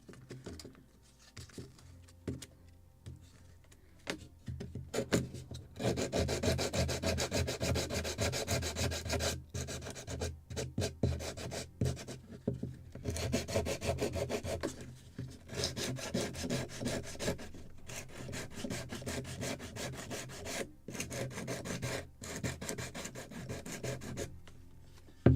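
Sandpaper rubs and scrubs across wooden parts of a Midwest kit model of a Muscongus Bay lobster smack, close and steady, in short repeated strokes with a few brief pauses and no talking.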